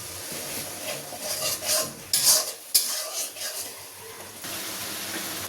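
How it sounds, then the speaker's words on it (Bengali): A spoon scrapes and stirs spice paste with taro in a cooking pan, giving intermittent rasping strokes over a soft sizzle, fairly close and varying in loudness. "এই যে আমার মশলাটা কষানো হয়ে গেছে, আর একটু কষিয়ে আমি কচুটা ঢেলে দেব"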